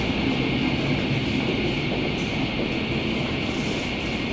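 A New York subway train, the E train toward the World Trade Center, gives a steady, loud rumble of rail noise throughout, with no talking over it.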